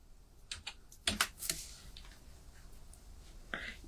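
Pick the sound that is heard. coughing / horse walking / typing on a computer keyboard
typing on a computer keyboard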